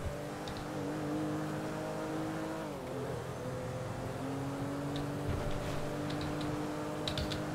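Car engine in the FiveM driving game, a steady droning whine that dips and climbs again as the car shifts and accelerates, with faint ticking clicks scattered over the hum.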